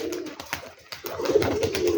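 An old-breed red-brown Rajshahi pigeon coos close by, a few short low calls at the start followed by a sustained rolling coo.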